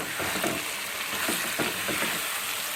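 Chicken fries with tomato puree in a pan, hissing in a loud, continuous sizzle close by, while a spoon stirs through it with soft, periodic scrapes and no one speaking.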